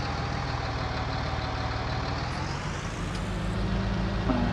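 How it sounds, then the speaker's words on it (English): Tractor engine idling in Farming Simulator 19, a steady low mechanical drone with even rumble throughout, fairly loud and without talk. "But we're going to get the tractor started back up."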